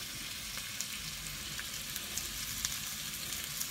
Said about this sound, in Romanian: punem cartofii în ulei la prăjit